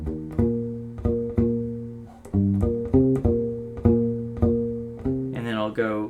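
A U-Bass plays a bass phrase: a run of round, plucked low notes in a steady, bouncing rhythm, close and loud, ending in a brief squeak of fingers sliding on strings.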